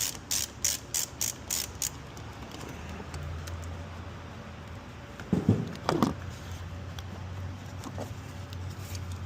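Ratchet loosening a bolt under the hood of a 2023+ Honda Civic Type R, giving a quick run of sharp clicks up close, then quieter scattered clicks and metallic taps over a low hum.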